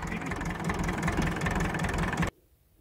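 A 1954 tractor idles in the snow, a steady chugging engine with rhythmic low knocking pulses, close and fairly loud before cutting off abruptly near the end.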